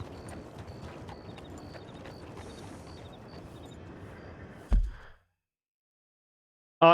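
Horse hooves clip-clop at a steady walking rhythm in the Red Dead Redemption 2 video game, a continuous patter under a faint background bed that cuts off abruptly near the end.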